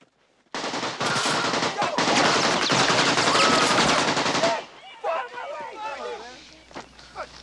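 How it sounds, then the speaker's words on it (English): AK-47 assault rifle firing in a war movie: loud, sustained automatic bursts for about four seconds, then a few scattered single shots and softer clatter as the firing dies away. "This is the AK-47 assault rifle, the preferred weapon of your enemy. And it makes a distinctive sound when fired at you"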